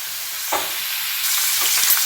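Sliced radish lightly frying in hot oil in a pan for radish dal, a steady close sizzle with a couple of soft stirring scrapes, no talking.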